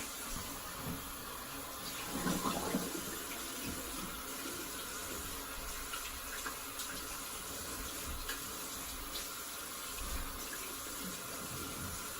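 Tap water runs steadily into a sink while a straight razor of silver steel is rinsed under it, a constant close hiss and splash with brief louder gushes, and no talk.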